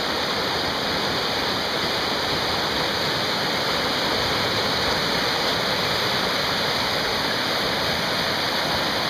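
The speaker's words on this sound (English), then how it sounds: "I can hear the river behind me." The Zig Zag River, fed by glacier meltwater, rushes in a steady, loud, broadband roar close by, unbroken throughout with no voices.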